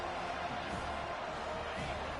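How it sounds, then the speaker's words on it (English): A stadium crowd at a college football game against Kentucky roars in a continuous dense wash of noise, steady and loud for the whole stretch with no distinct voices standing out. "The roar of the crowd"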